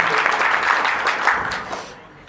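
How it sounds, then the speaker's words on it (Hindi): Audience applause at a devotional gathering, a short burst of crowd clapping that fades out within a couple of seconds, fairly close and filling the space. "अभी हर वक्ता की बात पे आप सभी ने ताली बजाई"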